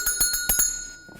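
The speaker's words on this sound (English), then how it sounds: "So when Pavlov rang the bell" A small bell is struck several times in quick succession, each strike bright and ringing with a sustained tone, fairly quiet and heard alone.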